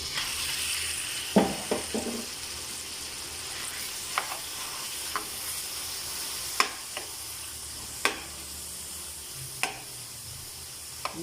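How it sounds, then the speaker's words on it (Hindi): Thin chicken pieces fry in butter with crushed garlic over a medium flame, a soft steady sizzle broken by occasional sharp ticks and scrapes of stirring, close and fairly quiet, with no talking. "चिकन हमारा अच्छे से कुक हो रहा है"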